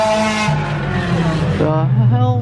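A Cadillac Escalade V engine revs hard on a city street at night, a loud close roar rising and falling in pitch over about two seconds.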